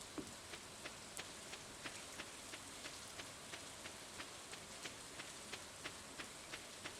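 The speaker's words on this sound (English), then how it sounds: "That rain is putting me to sleep" Steady video-game rain falls on a winter farming island, a soft, even hiss of drops with faint regular ticks repeating about every third of a second, quiet and without voices.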